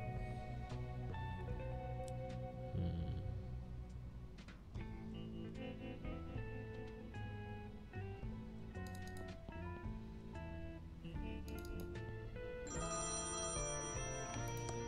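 A telephone rings steadily in the point-and-click game Thimbleweed Park, with its repeated electronic ringtone tones layered over the game's continuous background music and no speech.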